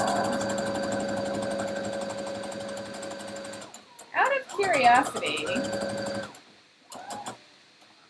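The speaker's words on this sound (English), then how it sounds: "is the sewing machine super loud when I run it?" A sewing machine runs with a steady, fairly loud mechanical whir during a fabric craft session, then stops as a person starts talking. Short bursts of stitching return briefly near the end.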